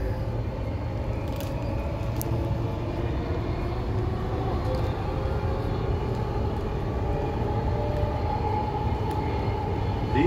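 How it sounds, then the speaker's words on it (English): Redcliffe Peninsula line train running express past stations between Bowen Hills and Northgate, a steady loud rumble and rail roar that holds for the whole stretch, with faint high squeals now and then and no voices. "This is a Redcliffe Peninsula train running express from Bowen Hills to Northgate"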